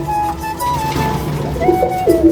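Pigeons coo close by, low throaty warbling calls rising and falling, with several overlapping coos toward the end.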